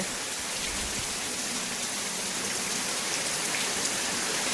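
Heavy rain pours down steadily on a flooded village in Keshod's Ghed area, a dense continuous hiss of drops striking surfaces, loud and close with no voices.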